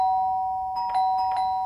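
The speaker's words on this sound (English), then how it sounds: "Now she's ringing our bell." A doorbell chimes twice in quick succession, a bright ringing tone clear over a steady background hum.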